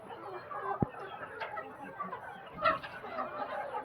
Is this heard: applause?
no